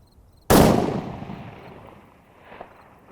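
A single loud rifle shot fired at a 520-yard target, a sharp crack followed by a long rolling echo that fades over a couple of seconds, with a faint distant report afterward.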